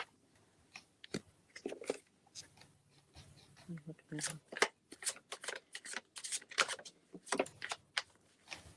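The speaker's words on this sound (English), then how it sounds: "I'm just going to start shuffling his name." Tarot cards are shuffled during a live reading, producing a quick run of soft, crisp riffling clicks and flutters, close and fairly quiet, with a voice speaking intermittently over them.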